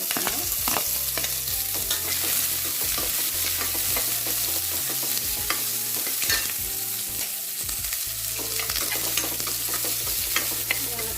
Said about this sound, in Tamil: வெங்காயம் ஒரு பாதி அளவுக்கு வதங்கணும்